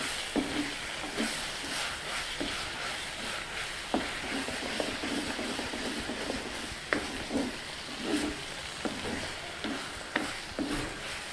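Ridge gourd stir-fried with chili powder in a pan gives a continuous low sizzle, punctuated every second or so by sharp spatula scrapes and clinks against the pan, close and moderately loud.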